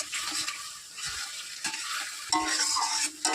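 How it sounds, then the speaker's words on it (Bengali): Sweet mango pickle with jaggery and fried spices is stirred in a pan, giving soft sizzling and scraping in uneven strokes with a few sharper clatters near the end. "নাড়লে আমটাও সুন্দর সিদ্ধ হবে, গুড়টা মাখা মাখা হয়ে যাবে বাতাসাতে।"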